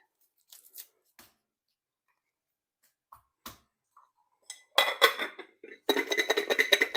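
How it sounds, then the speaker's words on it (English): Garlic being chopped with a knife on a board while making soup: a few sparse taps at first, then bursts of rapid close knife strikes in quick succession, with no talk. "I'll start by chopping up the garlic."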